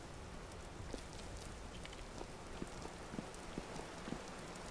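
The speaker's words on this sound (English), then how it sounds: "It is gonna start raining again." Steady rainfall in the survival game Vintage Story, a faint, even hiss of drops with scattered soft patters, with no talk.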